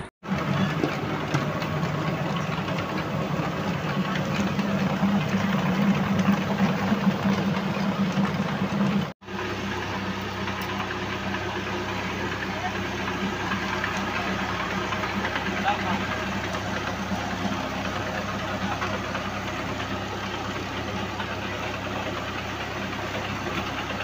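The engine of a village flour grinding machine runs steadily, a loud continuous low drone with a knocking texture that carries on through the whole stretch, with a brief cut partway and a voice talking over it.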